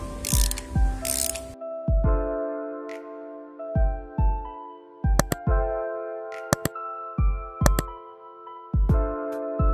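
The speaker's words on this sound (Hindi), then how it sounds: "इस स्पार्क प्लग को निकालने के लिए हमें 21 एम mm के स्पार्क प्लग सॉकेट की जरूरत होगी चलिए अभी हम इसे निकालते हैं" A 21 mm spark plug socket wrench removing the spark plug from a Royal Enfield Classic 350, giving repeated ratcheting clicks in short bursts with metallic ringing between strokes, close and clear, no voices.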